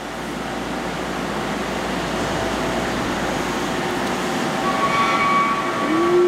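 CNC mill in a machine shop boring a clearance hole in a pallet with an end mill, a steady loud broadband machining roar with a faint chattery whine rising near the end.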